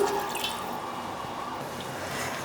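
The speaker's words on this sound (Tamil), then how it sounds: "தண்ணி ஊற்றி 1 நிமிஷம் கலக்கி விட்டுலாம்." Water poured into simmering pepper chicken gravy in a pan, a soft steady liquid splash and trickle heard close and fairly quiet, with no one speaking.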